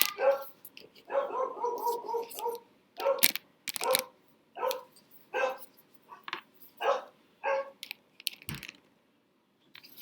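A dog barks indoors in a string of short, loud, repeated barks that come in uneven bursts.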